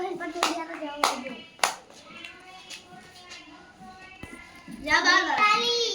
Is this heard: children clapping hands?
yes